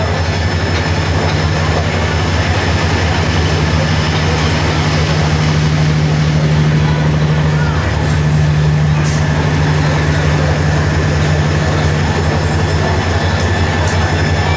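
A crowded passenger train pulling out of a station bound for Dhaka after the Eid holiday, a loud steady low rumble and engine drone filling the whole stretch with a constant hum over the rolling noise.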